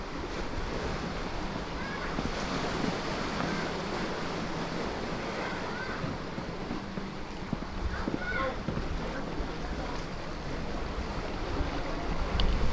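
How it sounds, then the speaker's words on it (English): Pacific Ocean surf washing steadily at the foot of steep stairs, a broad continuous roar of waves with wind buffeting the microphone throughout and no clear voices. "it heads right down to the ocean. And with that, you are on the Pacific Ocean."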